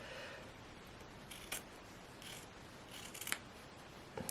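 Scissors trim excess fabric from a dress facing on a sewn pinafore, giving a few quiet, crisp snips spaced out over a faint background hush, with no talking.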